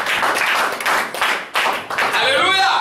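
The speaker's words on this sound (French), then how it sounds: "Acclamation pour le Seigneur." A few bursts of hand clapping at a church service, rhythmic and close, pausing briefly between rounds before a final stretch.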